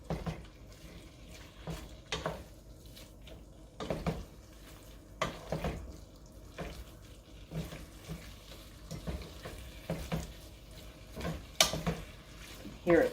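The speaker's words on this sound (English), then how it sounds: "Hear it sizzling." Quiet sizzling of beef tips and flour in a pan with occasional scrapes and clinks of a utensil stirring, fairly close and low in level.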